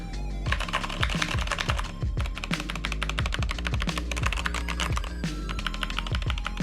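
Fast, steady typing on a SteelSeries Apex Pro gaming keyboard, close up: a dense run of quiet, muted keystrokes without sharp clicks, going on alone with no voices.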